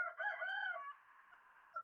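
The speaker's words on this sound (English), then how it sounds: "You got to tell that pardon rooster to the shut up." A rooster crows once, a drawn-out cock-a-doodle-doo up close that rises, holds and then fades into a thinner trailing tone, with a short squawk at the very end.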